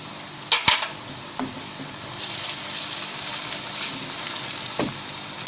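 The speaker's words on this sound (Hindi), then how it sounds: "अब हम इसमें डालते हैं लहसुन अदरक का पेस्ट" Ginger-garlic paste hitting softened onions in a hot pan while cooking aloo matar gobhi, a steady close sizzle with a few sharp clatters of a spoon or utensil against the pan near the start and one later.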